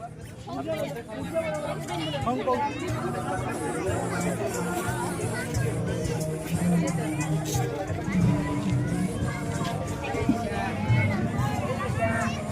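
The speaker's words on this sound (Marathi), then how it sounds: "बघा तुम्ही आता जरा गर्दी वाढती आहे यात्रेमध्ये" Crowd chatter at a village fair (yatra) in Deoli, a dense babble of many voices mixed with bustle and scattered clatter, steady throughout, with nearer voices standing out against the busy background.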